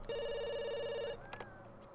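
A ringing telephone in The Sims 2 gives one steady electronic ring lasting about a second, then cuts off and leaves faint game sounds behind.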